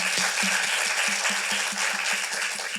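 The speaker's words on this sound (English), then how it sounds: "Let's give a round of applause to our actors here." Steady applause from a theatre audience greeting actors after a cold reading at a young playwrights' festival, dense even clapping with a faint rhythmic pulse running throughout.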